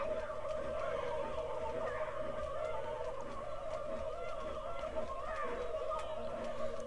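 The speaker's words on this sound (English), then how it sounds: "Whole lot of turkeys." Turkeys gobble repeatedly in the South Park 64 video game, warbling calls overlapping one another in a steady stream over a constant background drone.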